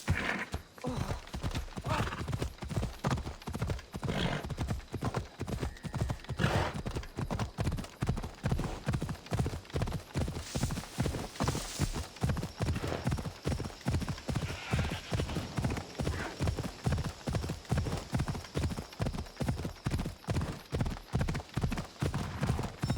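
A horse gallops while being ridden in the video game Assassin's Creed Odyssey, a steady, fast clip-clop of hooves that continues without a break, close and even, with a brief whinny.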